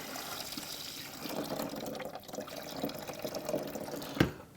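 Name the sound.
water poured into beer dispenser cooler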